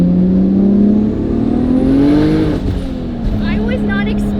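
A widebody Honda S2000 engine pulls hard and rises in pitch as boost builds past about 4,000 rpm, a loud close in-car drone that drops off partway through, with voices talking over it.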